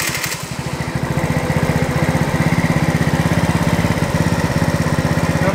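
50cc GY6 scooter engine fitted with a big intake kit, running with a rapid, steady putter that wavers slightly in pace, loud and close with no talking.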